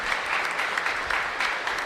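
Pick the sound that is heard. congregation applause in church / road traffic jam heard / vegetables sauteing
congregation applause in church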